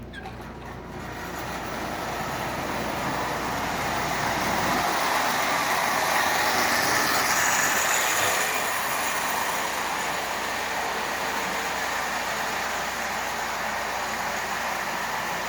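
An original Marx Mercury toy train with a new pre-war motor and working E unit runs backwards on track, giving a steady, close whirring and rumbling drone that swells slightly and holds, with no talking.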